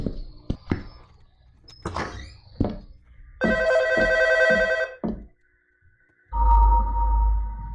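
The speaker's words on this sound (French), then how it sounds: "Répondre au téléphone." In a horror video game set in a VHS rental store at night, a telephone bell rings in a loud electronic trill lasting about a second and a half, after several knocks and thuds, followed by a low rumbling tone.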